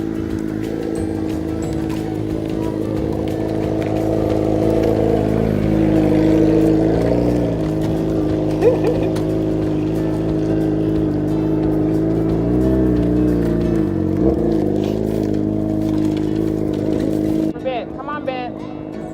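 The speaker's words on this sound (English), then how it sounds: "Whoa, motorcycle." A motorcycle engine drones loudly and steadily, rising and falling in pitch as it races past a playground nearby, fading near the end.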